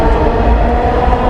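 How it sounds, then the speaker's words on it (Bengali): A Dhaka metro rail train pulling out of the station gives a loud, close, steady low rumble and roar for the whole short stretch. "মাত্র একটা মেট্রো রেল ছেড়ে গেছে"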